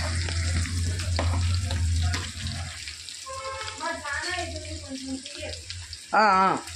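Sesame seeds, cumin, green chili and onions frying in a pan, a close sizzle with stirring clatter that fades out after a couple of seconds, followed by quieter kitchen sounds and a short, loud burst of running water near the end.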